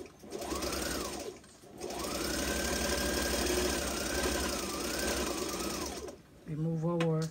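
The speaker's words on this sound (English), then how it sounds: "I'm gonna continue sewing." A sewing machine stitches a fabric face mask in long steady runs with a short pause between them, its motor whirring close and loud, and a voice briefly cuts in at the end.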